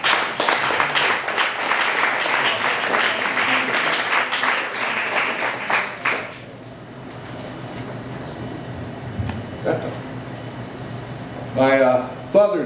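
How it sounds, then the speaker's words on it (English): Applause from an audience welcoming Jerry Dahlgren, dense and steady for about six seconds before fading abruptly into a hum of room noise, with a few scattered sounds afterward. "big round of applause for Mr."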